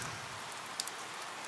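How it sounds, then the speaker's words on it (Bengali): Light drizzle falling on a rainy morning around a railway station, a soft steady patter with a couple of faint drip ticks and no voices. "সাথে ছিঁড়ি ছিঁড়ি বৃষ্টি"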